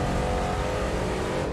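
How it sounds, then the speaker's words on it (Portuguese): A big old muscle car engine roars close by as a steady, throaty rumble at a constant throttle, loud and with nothing over it, during a road trip across the USA. "Eu gosto do ronco do motor, mano."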